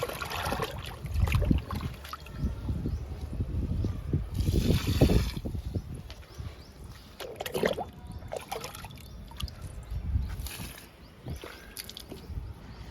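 Liquid fertilizer poured onto a hibiscus plant in several uneven bursts of trickling and splashing, with short gaps between pours, fairly soft and close with no speech.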